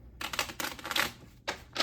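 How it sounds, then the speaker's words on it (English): A deck of playing cards is shuffled close by in a quiet room, with dense riffling bursts separated by short pauses and no voices. "Giving it a shuffle."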